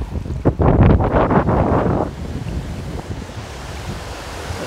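Waves wash in with a surging rush that fades into a steady hiss of surf and wind buffeting the microphone.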